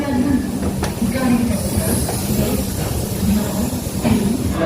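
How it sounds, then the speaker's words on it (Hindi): Indore–Patna Express pulling out of Pandit Deen Dayal Upadhyaya Junction, heard from on board: a continuous loud rumble of rolling coaches with hissing and rhythmic wheel clatter throughout. "पंडित दीनदयाल उपाध्याय जंक्शन से ट्रेन डिपार्ट करती हुई"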